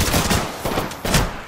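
Rapid bursts of gunfire in Apex Legends, loud and close, two dense volleys separated by a brief gap, with no talk over them.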